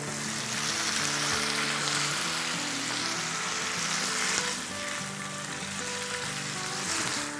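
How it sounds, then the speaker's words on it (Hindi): Almost two pounds of chicken frying in hot oil in a pot on a medium stove for chicken pulao, giving a loud, continuous close sizzle with a faint stirring scrape, no talk. "उसमें हम अपना चिकन डाल देंगे जो कि ऑलमोस्ट 2 पाउंड है"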